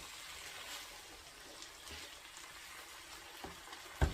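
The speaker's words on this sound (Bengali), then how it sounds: "এখন আমি সিমের বিচিগুলো ভালো করে কষিয়ে নিচ্ছি।" Bean seeds are fried and stirred in a pan, giving a soft, steady sizzle with faint scraping strokes and a sharp knock at the very end, fairly quiet throughout.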